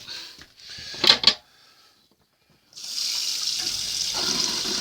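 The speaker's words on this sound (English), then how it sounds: "You can hear the pump running now." After a few clunks and a brief silence, a steady rushing hum of a running water pump starts up and continues evenly to the end.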